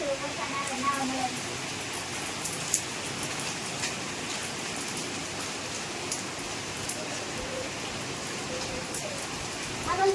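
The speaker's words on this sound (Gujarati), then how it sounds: "અમે મંદિરેથી ઘરે આવ્યા ને ત્યારનો વરસાદ સતત ચાલુ જ છે" Continuous rain falls steadily and close by in Morbi, a dense unbroken patter lasting throughout with only faint voices underneath.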